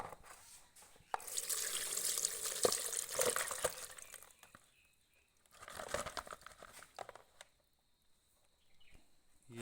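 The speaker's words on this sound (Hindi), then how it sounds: "जब आप पानी में डालेंगे फिर निकालेंगे" Sliced potatoes for crispy chips are rinsed in a bowl of water. Two bursts of sloshing, splashing and crinkling are separated by a quiet pause, with faint drips near the end.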